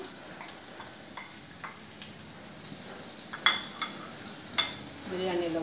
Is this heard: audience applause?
no